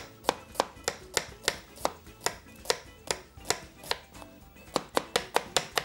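A medium onion being finely chopped with a knife on a board, a brisk run of crisp, evenly spaced knife strikes, close and clear with no talk.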